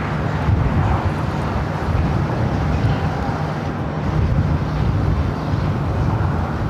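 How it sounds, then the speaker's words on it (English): An American Airlines Boeing 737-800 bound for Chicago O'Hare accelerates down runway 25 right at Los Angeles International Airport, a steady broad engine roar with rushing wind noise throughout. "American Airlines Flight 2608 heading to Chicago O'Hare, 737-800 now rolling down that 25 right"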